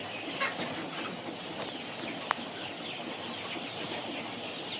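Chickens in a home poultry house, with soft scattered clucks and rustling over a steady indoor hum and one sharp brief click partway through.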